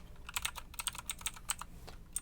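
Quick, light clicks of a computer keyboard being typed on, close and fairly quiet, in irregular bursts with brief pauses between keystrokes.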